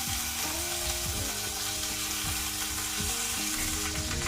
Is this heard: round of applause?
no